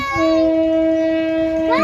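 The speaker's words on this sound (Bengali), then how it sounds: "ওই যে ট্রেন আসছে" An approaching train sounds a loud, sustained horn on one steady tone for almost two seconds, with a brief rising note at the end.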